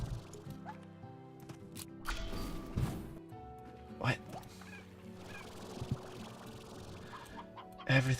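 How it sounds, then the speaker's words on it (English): Chickens cluck in Slime Rancher, several short, irregular clucks and squawks scattered among other game noises and splashy effects, with a voice talking over them now and then. "Chickens."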